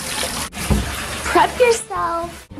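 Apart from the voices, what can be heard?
water running from a tap for a cat bath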